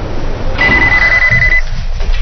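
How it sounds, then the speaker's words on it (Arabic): A telephone in a home scene of an Egyptian TV drama gives a single loud, steady electronic ring lasting about a second over low room noise. "التليفون رد انا ولا ايه؟"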